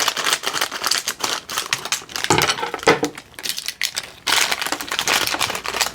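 Crinkly plastic packet of British Army 24-hour ration pack biscuits being handled and rummaged, a dense run of close crackles and rustles with no speech.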